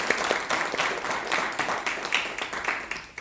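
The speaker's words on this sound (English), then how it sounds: "So I want a round of applause for yourself and for the great Honorable." A round of applause from an event audience honoring a dignitary, brisk clapping heard at moderate distance, continuous and fairly even across the short stretch.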